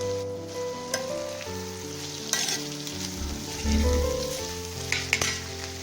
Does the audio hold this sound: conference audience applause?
no